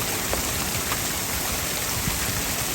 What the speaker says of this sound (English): Totally hailed on the truck. It is hailing.